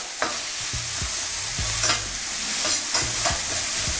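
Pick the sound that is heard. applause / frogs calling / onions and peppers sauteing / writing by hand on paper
onions and peppers sauteing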